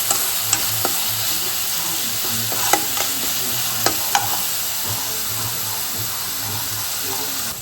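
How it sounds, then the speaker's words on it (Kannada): Curry leaves frying in oil in a pan, a continuous close sizzle with occasional sharp pops and light stirring clicks, steady and loud throughout. "ಇದನ್ನು 1-2 ಮಿನಿಟ್ಸ್ ಫ್ರೈ ಮಾಡ್ಕೊಳ್ಳೋಣ"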